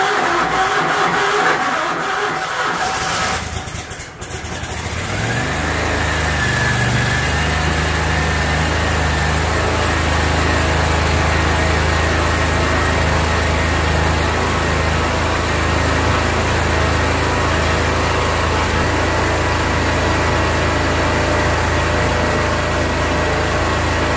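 A lawn mower engine idles steadily in cold weather, a continuous low mechanical drone that holds for over twenty seconds after a brief dip near the start, with no talking.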